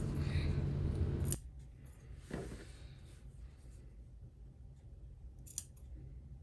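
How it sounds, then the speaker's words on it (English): Scissors trimming and clipping the seam allowance of a sewn fabric collar band, a loud close snip and rustle at the start, then a few quieter isolated clicks and cuts against a soft room hiss. "Trim the seam allowance and clip in the curves"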